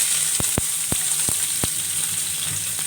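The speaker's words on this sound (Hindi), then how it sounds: "जी, ऑयल जो है गर्म हो गया है। मैं इसमें प्याज डाल रही हूँ।" Sliced onions sizzling in hot soya oil in a pan, a bright continuous hiss punctuated by several sharp pops and crackles, close up with no voices.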